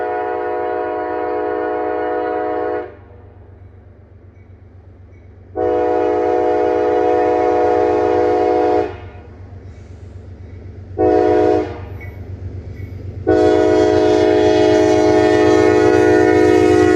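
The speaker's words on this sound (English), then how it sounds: "CO40, empty coal train, northbound" An empty northbound coal train passing at Middle Kelly, Kentucky, its loud horn blasting in long and short chords over a steady low rumble of rolling wagons, very close and dominant throughout.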